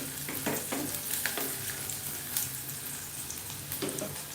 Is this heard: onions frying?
yes